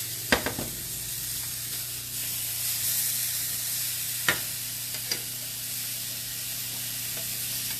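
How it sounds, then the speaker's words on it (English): Fish pan-searing in a dry pan with a little olive oil gives off a steady bright sizzle, close and constant, broken by a few sharp taps and clinks of a utensil against the pan, with no talking. "Frying them like this in a dry pan or with just like a little bit of olive oil gives it a really good crisp."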